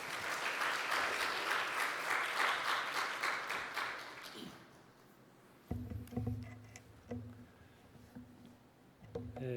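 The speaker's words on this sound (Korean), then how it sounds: "우리 나오실 때 박수로 환영해 주시면 좋겠습니다." Church congregation at a Friday worship service applauding to welcome a visiting guest pastor, sustained clapping for several seconds that fades out, followed by a quieter stretch with scattered knocks and movement.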